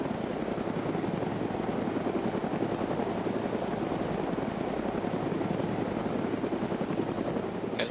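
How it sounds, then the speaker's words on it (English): A helicopter flies in the DayZ Namalsk video game. Its rotor chop and engine roar form a loud, steady, close drone that keeps on without a break, with no voices over it. "The chopper to our left, or right, sorry, crash."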